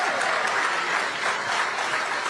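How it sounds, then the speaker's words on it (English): A crowd claps at an election night results event, a dense and steady wash of applause that continues throughout without a break. "She's clapping too."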